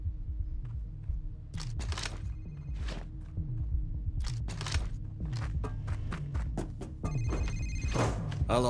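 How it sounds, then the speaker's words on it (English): Repeated electronic telephone ringing inside a Payday 2 heist level, bursts of rings sounding over a steady background hum with game noise and footsteps, fairly loud and close with no talk over it. "The phone's ringing."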